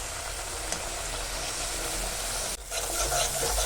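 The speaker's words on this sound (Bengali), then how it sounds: "আমি ভালো করে এটাকে কষিয়ে নেব যতক্ষণ অবধি মশলাটা দিয়ে তেল না ছাড়বে" A masala spice paste sautés in oil in a pan, giving a steady, close sizzle with soft stirring scrapes throughout and a brief dip near the end.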